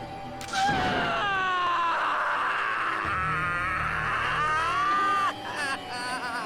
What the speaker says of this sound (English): What a scream.